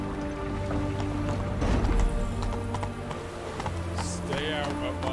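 The horse Roach galloping in The Witcher 3 video game, a continuous fast clip-clop of hooves under a loud, busy game soundtrack, near and steady throughout with a brief rise midway.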